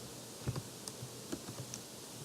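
A handful of soft, scattered key taps on a computer keyboard as a password is typed into a Windows machine, quiet and close, with faint room hiss between the clicks.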